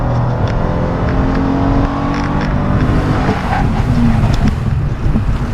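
A 2014 Toyota Sienna minivan pulls hard from 0 to 60 mph, its engine drone climbing steadily in pitch under loud road and wind noise from inside the cabin, without any talking.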